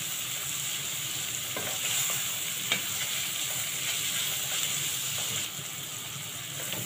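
Onions frying in a pan while a dish of kidneys and testicles cooks, a steady soft sizzle with occasional light stirring scrapes, close and continuous with no talk.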